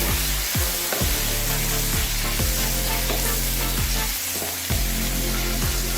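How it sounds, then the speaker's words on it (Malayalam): Three chopped tomatoes frying in a pan for paneer butter masala give a loud, continuous close sizzle, broken by repeated low knocks of a spoon stirring against the pan. "ഇതിലേക്ക് ഒരു 3 തക്കാളിയാണ് മുറിച്ച് വെച്ചിരിക്കുന്നത്, അതും ചേർത്ത് കൊടുക്കാം."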